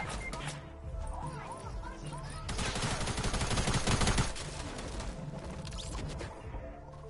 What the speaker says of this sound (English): Why are you using a shotgun?